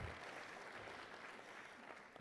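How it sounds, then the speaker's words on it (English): Audience applause at a high school senior honors night, a continuous wash of clapping hands from a crowd, fairly distant and even throughout. "Let's give Mara a great big round of applause as well"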